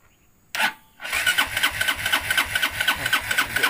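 Sym VF3i scooter engine with a fault, a short burst of cranking that catches and settles into a steady, pulsing idle close by, with no talk.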